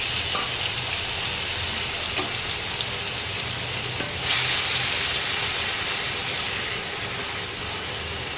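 Tomato paste fries in a hot pan for a Bengali chana curry, giving a steady, close sizzle and hiss that holds evenly throughout with one brief sharper flare midway.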